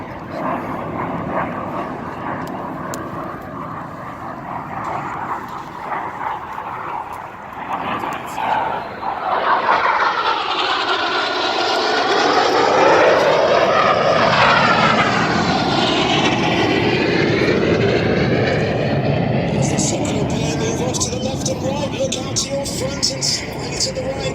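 A display aircraft flies at the Duxford Battle of Britain air show, its engine roar swelling loud and sweeping across the sky near the middle, then easing off, under an announcer's commentary.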